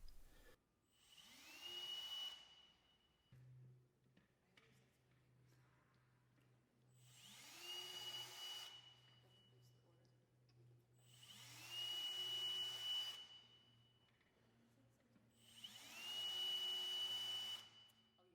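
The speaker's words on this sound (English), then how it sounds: "Drill the remaining pilot holes in the top track." A power drill whirs in four separate bursts of a few seconds each, close by, with short pauses between them and a low steady hum underneath.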